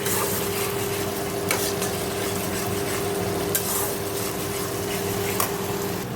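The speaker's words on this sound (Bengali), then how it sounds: "ভালো করে মশলাটা কষে নেব।" Onion spice paste with whole garam masala and dried red chilli frying in a pan, a steady close sizzle with a few faint utensil clicks as it is stirred.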